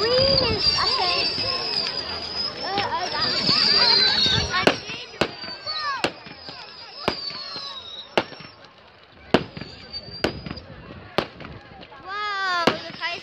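Fireworks at a bonfire night at a rugby club burst in sharp, loud bangs spaced a second or two apart, over crackling and whistling, with crowd chatter and children's voices throughout.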